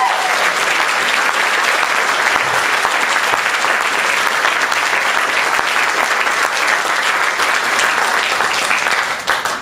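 An audience at a theater in Dallas applauds, a loud, sustained wash of clapping lasting nearly ten seconds before starting to fade at the end.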